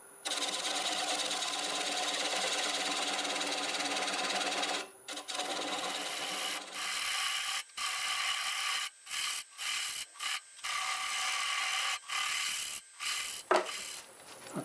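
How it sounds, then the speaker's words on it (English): A half-inch bowl gouge cuts into spinning wood on a lathe with a steady broadband scraping hiss, continuous at first and then breaking into a series of short separate cuts with brief pauses between them. "Start with a 1/2 inch bowl gouge, and we'll start removing most of it."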